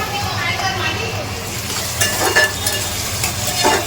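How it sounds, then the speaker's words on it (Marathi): Onion and tomato frying in a pan while being stirred, with a steady close sizzle and intermittent scraping strokes, a few sharper clinks near the end. "टॅमॅटो पण चांगला शिजून देणार आहे आणि व्यवस्थित परतून घेतलेला आहे"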